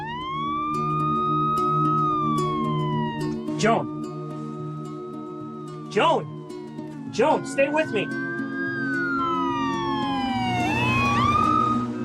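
An ambulance siren wails loudly and steadily throughout, rising and falling in long sweeps, while a distressed voice repeatedly calls out a woman's name over it.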